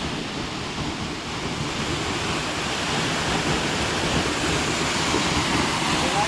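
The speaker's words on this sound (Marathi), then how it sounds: "जो पाण्याच्या धबधब्यातून ते थेंब उडत आहेत ना ते इकडे बाहेर येत आहेत" Steady, dense roar of spraying water from a waterfall at Raghuvir Ghat near Khed in the rainy Konkan hills, close and loud, like heavy rain pouring without pause.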